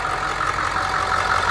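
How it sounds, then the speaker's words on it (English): A car engine idles steadily with a constant low rumble and hum, no voices over it. "So I'm gonna turn off the engine."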